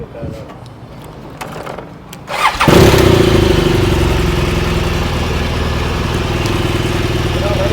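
A motorcycle engine is started on a bike touring in Uganda: quiet ticking and clicks first, then the engine catches with a loud burst and settles into a steady, close idle.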